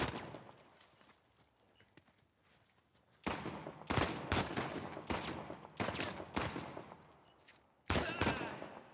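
Gunfire breaks out during an ambush in the video game Uncharted: The Lost Legacy: after a quieter stretch, loud bursts of shots crack out in clusters, separated by short pauses, close and sharp.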